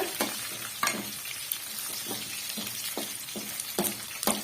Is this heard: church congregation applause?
no